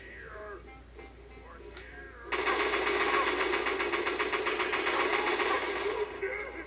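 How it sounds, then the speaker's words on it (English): Rapid machine gun fire from a super mutant in the video game Fallout 3, a dense, loud, continuous burst of shots lasting several seconds after quieter game sounds. "Superman is shooting me with a machine gun."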